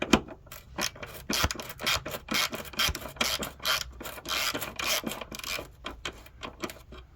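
A hand ratchet with an 8mm socket loosens exhaust bracket bolts on a BMW 435i, giving a fast, steady run of close clicking strokes throughout, fairly quiet and alone.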